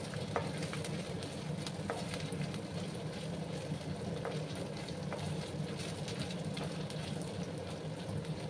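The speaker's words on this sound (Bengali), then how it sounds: "আর একটু সময় আমি লাল লাল করে ভেজে নেব" Ginger paste and spices frying in a pan for lau ghonto with fish head, a quiet, constant close sizzle with occasional soft ticks of stirring throughout, without any talking.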